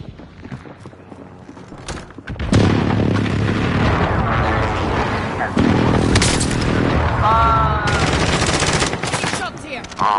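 Dense gunfire in Warzone on PS5, a sustained loud barrage of rapid shots and blasts running for most of the stretch after a quieter opening, with players' voices talking over it.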